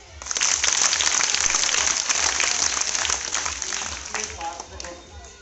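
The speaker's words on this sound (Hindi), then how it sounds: "ताली बजाओ।" Applause from a workshop audience, a dense wash of many hands clapping that holds steady for several seconds, then thins and tapers off toward the end.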